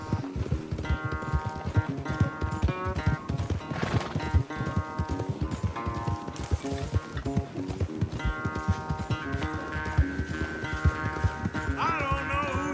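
Horses gallop in a race in Red Dead Redemption 2, their hoofbeats running as a steady clip-clop rhythm under a constant bed of game music, with a brief whinny heard along the way.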